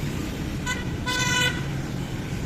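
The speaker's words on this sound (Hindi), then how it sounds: "अच्छा, ये ट्रैफिक देखें भावलपुर का" City traffic in Bahawalpur with car horns honking: two short, nearby horn toots over a constant roadway rumble of passing vehicles.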